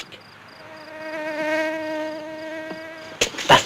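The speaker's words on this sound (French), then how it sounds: "Un moustique." A mosquito whines with a thin, wavering buzz that swells and fades as it circles close by, ending in a couple of sharp slaps or thuds.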